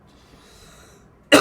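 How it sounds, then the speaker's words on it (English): One sharp, loud cough bursts out at the end after a near-silent stretch, close to the microphone, from a person who is ill during a live stream. "I'm going to start my coughing sessions."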